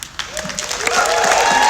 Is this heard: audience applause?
yes